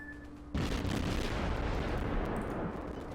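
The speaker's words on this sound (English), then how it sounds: "And he has opened fire on this" A warship opening fire in World of Warships, a sudden heavy boom followed by a sustained rumbling roar that stays loud and dense for a few seconds after a quiet start.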